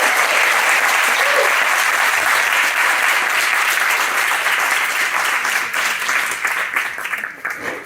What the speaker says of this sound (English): give them a really warm round of applause